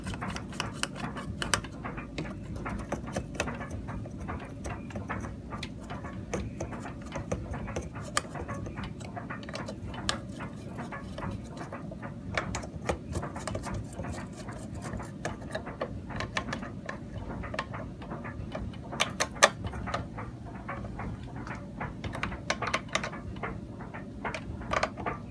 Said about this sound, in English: Screwdriver to put it in.